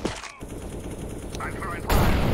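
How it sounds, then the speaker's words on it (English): A flashbang grenade goes off in the shooter game CS:GO, with a sudden loud burst near the end over steady in-game gunfire and noise. "I throw the flashbang."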